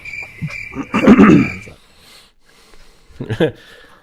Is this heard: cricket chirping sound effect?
yes